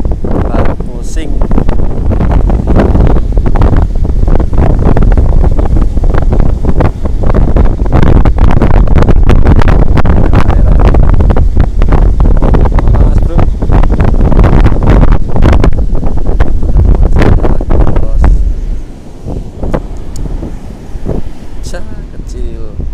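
Strong wind buffets the microphone at a south coast beach during surf fishing, a loud continuous roar across the whole clip that eases slightly near the end, with faint voices underneath.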